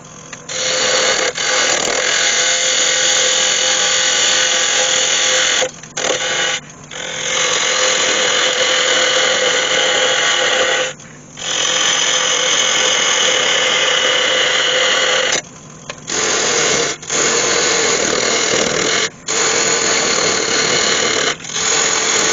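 A wood lathe turns a cherry wood vase, holding a loud, steady high-pitched whine as the tool cuts, broken by several brief pauses.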